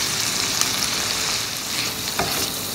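About 50 grams of small, thinly cut paneer pieces fry in a pan with a loud, continuous sizzle and hiss, stirred now and then, close up and with no talking.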